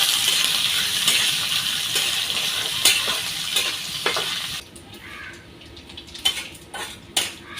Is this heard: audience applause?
no